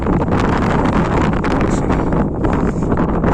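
Loud wind blasts against the microphone without pause, a dense, rough roar that stays close and constant throughout.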